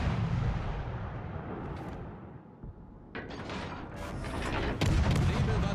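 Warship guns fire in World of Warships Legends, heavy booming shots with a rumbling, mechanical backdrop and a burst of crackling impacts midway, fairly low in level.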